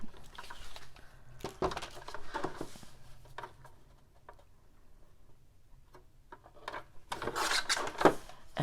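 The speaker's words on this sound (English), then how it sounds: "I'm going to get my cutter out and I'm going to trim it right up to that cardstock" Paper cutter trimming decorative napkin paper flush to a cardstock card edge, a few scattered slicing and rubbing strokes with clicks, close and fairly quiet with pauses in between.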